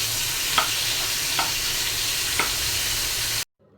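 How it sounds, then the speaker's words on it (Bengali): Rohu fish fries in hot oil in a frying pan with a continuous close sizzle, broken by three soft clinks of stirring or turning at even intervals before the sound cuts off. "ফ্রাই প্যানে তেল দিয়ে দিয়েছি। এখন মাছটা ভাজবো।"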